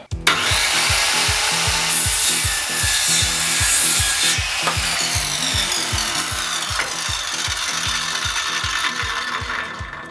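A Dnipro-M CS 185 M circular saw cuts through a 20 mm wooden board, a loud, steady whining rip that holds for about ten seconds, with rhythmic rasping texture from the blade, and no talking.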